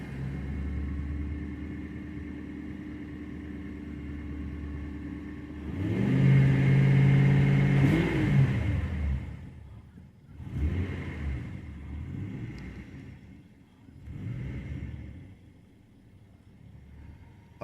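An old Ford Crown Victoria with an idle air control valve fault idles roughly and unevenly, then revs up hard for a couple of seconds before dropping back to a lumpy, near-stalling idle with smaller surges.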